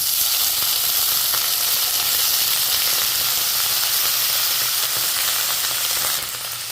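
Brinjal pieces fry in hot oil with garlic and curry leaves in a pan, giving a loud, steady, close sizzle that holds evenly throughout with no talk.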